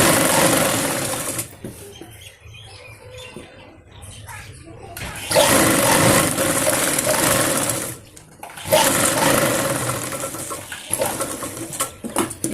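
An electric sewing machine stitches a seam joining two parts of a young girl's plazo, running in long steady whirring bursts with short pauses between passes, loud and close.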